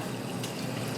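Running water rinses a metal honing steel clean after sharpening, a steady close splashing wash that continues evenly for about a second.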